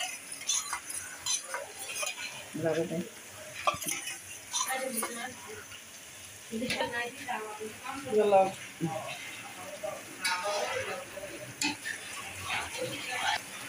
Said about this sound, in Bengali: এবার কর্নফ্লাওয়ারটা দিচ্ছি, অল্প অল্প করে দিচ্ছি আর লাইরা নিচ্ছি